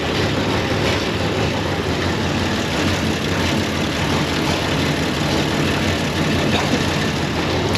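Engine of a 1930 International fire truck running at a steady idle, a loud, continuous low rumble that holds unchanged throughout with no talking.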